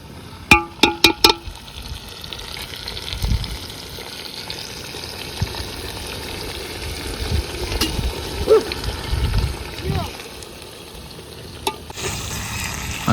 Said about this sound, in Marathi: आता खालचं वर वरचं खाली मासं करायचं चाललंय नाही का, परतायचं.